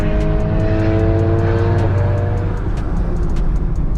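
Chevrolet Camaro ZL1 with a Corsa exhaust and American Racing headers revs loudly and close by, a deep steady engine drone with rising harmonics that holds throughout and then broadens into rough exhaust rumble.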